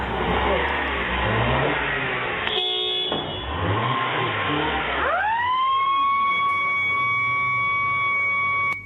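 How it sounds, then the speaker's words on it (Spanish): A siren wails somewhere in the background beneath busy street noise and talking, its tone rising and holding steady toward the end. "Ahí se escucha la sirena de fondo."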